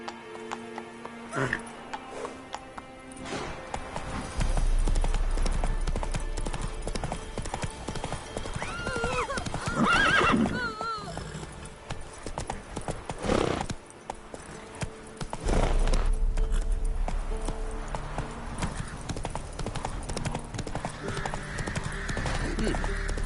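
Horse hooves clip-clop in a steady rhythm with bursts of louder, closer hoofbeats, while a horse neighs and whinnies partway through; other sounds and movement mix in around them.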